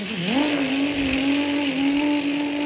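A voice imitates the exhaust of a Duramax diesel truck, a close, loud, buzzing engine drone that swoops up briefly at the start, then holds a steady rumbling tone.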